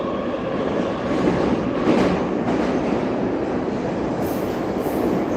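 A Moscow D1 commuter train rides along with a loud, steady rumble, rattling carriage noise and brief high wheel squeals, heard from inside the car with no voices.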